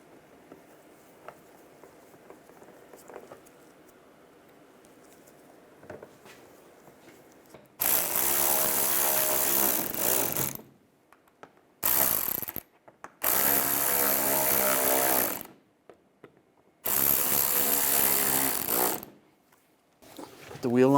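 A power tool runs down the bolts on a 2008-2016 Chevrolet Cruze engine water pump in three loud, whirring bursts separated by short silences, after a quieter stretch of faint clicks and handling.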